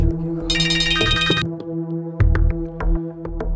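An incoming call rings as a bright electronic melody, loud and close, with a rapid high chiming burst early on and then repeated pulsing tones over a low droning background hum.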